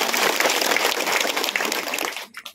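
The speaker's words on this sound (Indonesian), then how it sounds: "Tepuk tangan buat camat baru ini." Audience applause for a newly appointed sub-district head at a public gathering with the Tabanan regent: dense, steady clapping from a crowd that holds strong, then breaks off abruptly near the end, leaving a few scattered claps.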